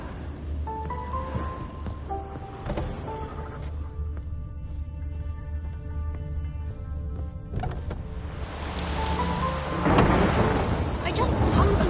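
Steady rain falls with rolling thunder in a Witcher 3 game scene, the storm swelling louder toward the end beneath a low background hum.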